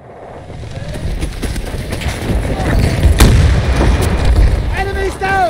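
Planted explosive charges detonate in Battlefield 2042 as a heavy, building barrage of booms and sharp cracks that peaks in a loud blast, with warbling tones and battlefield noise trailing off afterward.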